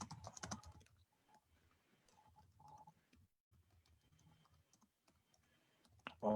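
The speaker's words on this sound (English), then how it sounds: "I'm typing it." Quiet typing on a computer keyboard, scattered soft clicks in short runs with pauses, faint and close, with a louder thump at the start and end.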